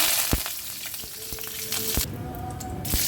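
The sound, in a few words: mustard seeds, cumin and curry leaves sizzling in hot oil in a kadhai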